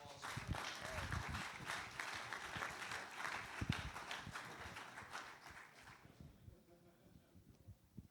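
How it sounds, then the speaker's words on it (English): Group applause for residents at a church service, steady close clapping with a few cheers that continues for several seconds before fading out, leaving quiet room tone. "Let's give him another round of applause."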